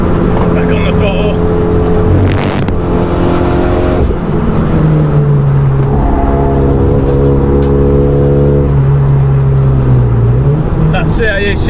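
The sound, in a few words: RenaultSport Megane 250 Cup engine accelerating on track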